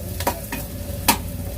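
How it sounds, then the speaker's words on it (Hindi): Onions frying in oil in a pan for baingan bharta, with a steady low sizzle broken by three sharp spatula scrapes as they are stirred, close and fairly loud. "तो अच्छे से प्याज को भून लेते हैं।"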